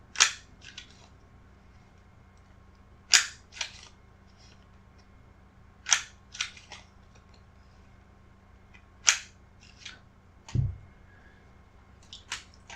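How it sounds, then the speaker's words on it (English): A handheld corner punch snips the corners off printed game cards, giving sharp crisp clicks in small clusters every few seconds against a quiet room, with one duller thump. "going to round off the corners of these cards with my handy dandy corner punch"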